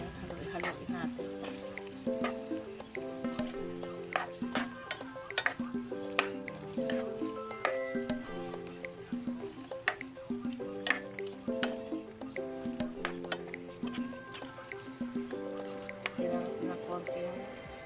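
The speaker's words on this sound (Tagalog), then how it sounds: "Haluin natin." Creamy chicken and mushroom frying in a pan sizzles steadily under light stirring, fairly faint beneath a prominent melodic music track.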